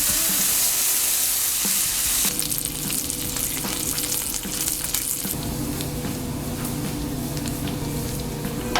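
Smashburger patties with bacon sizzle and crackle steadily on a 36-inch Blackstone griddle after flipping, a close, continuous frying hiss with scraping and occasional clinks from a spatula.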